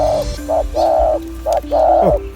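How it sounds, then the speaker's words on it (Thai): A spotted dove coos nearby, a clear series of soft, hollow notes in a repeating rhythmic phrase, with short pauses between calls. "เสียงเล็กไปหากลาง เสียงเล็กไปหากลางครับนี่ครับของเซียนแท็กนะครับ"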